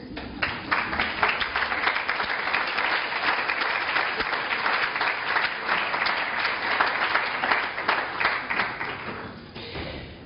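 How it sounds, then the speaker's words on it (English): Steady applause from a conference audience, many hands clapping at an even level for about nine seconds before tapering off at the close. "Ladies and gentlemen, a big round of applause."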